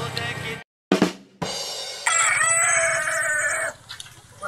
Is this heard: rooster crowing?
yes